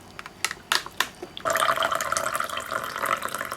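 A few sharp clicks and knocks from an espresso machine brewing Lavazza Crema e Gusto coffee, then a steady hiss of liquid streaming and gurgling, close by, continuing to the end.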